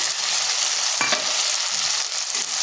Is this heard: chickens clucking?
no